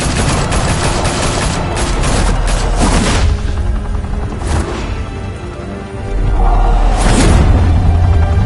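Heavy gunfire in Batman The Telltale Series: a loud, close volley of rapid shots for the first few seconds, then scattered blasts and booming impacts that swell again near the end.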